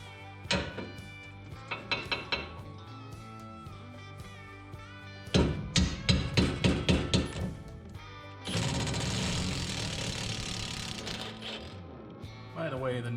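Ringing metallic hammer blows and clanks work loose a rusty, long-seized tie rod on a 46-year-old AMC suspension. Sharp strikes come in uneven bursts, then a rapid series, followed by a sustained harsh mechanical buzz.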